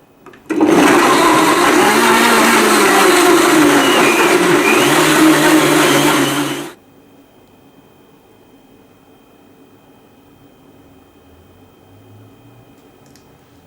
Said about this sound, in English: Now blend this on high for about 20 to 30 seconds.